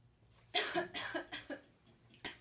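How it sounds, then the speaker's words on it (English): Several harsh coughs in a row, close and fairly loud, with short pauses between bursts and no talking. "it makes me cough a lot"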